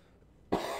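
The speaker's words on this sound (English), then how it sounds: "Just trying to cough this stuff out of my chest." A single short, sharp cough from a person clearing congestion from the chest, close and abrupt after near silence.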